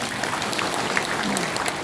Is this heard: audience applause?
yes